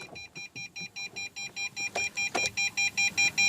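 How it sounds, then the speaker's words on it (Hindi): A Tata Tigor sounds its door-open warning: a steady train of short electronic beeps, roughly four per second, repeating evenly and growing slightly louder, with a few clicks and clunks from the cabin behind them. "ये बीप आ रहा है"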